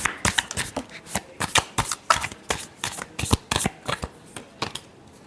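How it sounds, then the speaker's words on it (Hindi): Tarot cards are shuffled close up in a rapid series of crisp riffling bursts, each a short papery flutter, repeating about a dozen times before stopping. "last shuffle"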